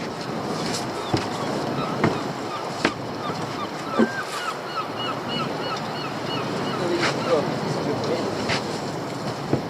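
Waves wash onto rocks and a beach at high tide on a windy coast, making a steady broadband roar with soft surges and small splashes, and wind buffeting the microphone.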